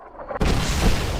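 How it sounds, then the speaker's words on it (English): A mortar strike explosion in Fallout New Vegas hits with a sudden loud boom and a rumbling blast that stays dense for a moment, with no talk. "I gotta take the mortar strike."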